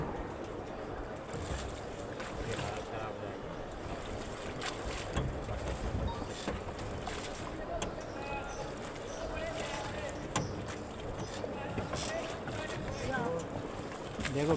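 Wooden rowboat moved along by oars, with a continuous watery wash and lapping against the hull, wind noise over it, and a person talking throughout.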